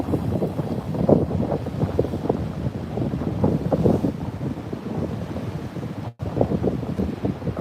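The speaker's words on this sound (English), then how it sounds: "It's also wet with the waves breaking over the rock wall and spray all over me." Ocean waves break over a coastal rock wall with gusting wind, a steady loud roar of surf and spray close by and heavy wind buffeting the microphone, with no voices.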